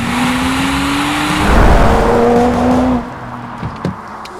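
A BMW 1M driving hard, a loud throaty engine note that swells and pulls for a few seconds, then drops off abruptly to a quieter idle with a couple of faint knocks.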